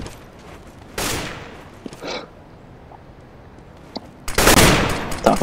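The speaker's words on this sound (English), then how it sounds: "It's a shotgun, come on. Seriously, guys, there's a swag 7." MAG-7 shotgun blasts in CS:GO, two heavy bursts a few seconds apart, loud and close, with quieter game noise between them.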